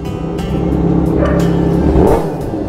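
A Kawasaki ZX6R sports bike with an inline-four engine revs up hard, close and loud. The engine note rises to a peak and then falls back, with some mechanical clatter, and no one speaks.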